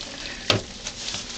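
Dry ice fizzing and bubbling in toilet bowl water, a close, steady hiss with one sharp splashy burst partway through.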